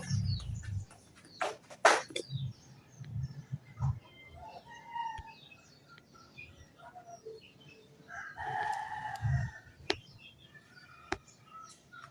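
Chickens and a rooster in a yard on a cool morning, with scattered crowing and clucking at moderate distance among other bird calls and faint background sounds.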